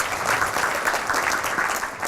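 Audience applause at a Korean fashion forum panel seminar, a steady wash of clapping from a seated crowd with no voices over it.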